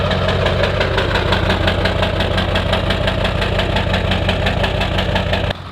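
A Ford 7.3L diesel with 170,000 miles runs close by, producing a loud, steady idle with a rapid rhythmic diesel clatter that drops in level near the end.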